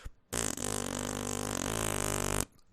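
A voice imitates a long fart with the mouth, one continuous buzzing, flapping blow lasting about two seconds, close and fairly loud, starting and stopping abruptly with silence on either side.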